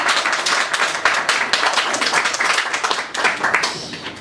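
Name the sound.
audience clapping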